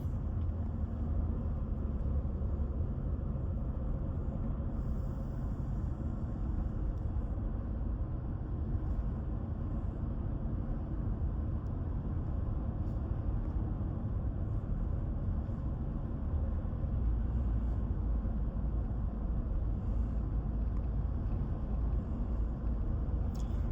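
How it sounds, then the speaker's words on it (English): Cabin of a 2025 Lincoln Navigator L Black Label with independent suspension cruising at about 40 mph, a steady low road and engine rumble that stays even throughout, no talking. "So I'm just cruising about 40 miles per hour."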